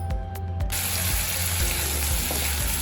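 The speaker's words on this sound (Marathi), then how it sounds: "आता आपण अगोदर छोले फोडणीला टाकून घ्यायचे" Chickpeas dropped into hot tempering oil give a steady, loud sizzle and hiss that continues unbroken, with a few sharp metallic clicks right at the start.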